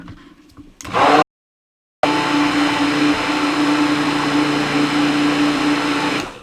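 A stick blender runs in thickening hot process soap batter after a short burst and a moment of silence, then a continuous loud motor whir with a steady hum until the end.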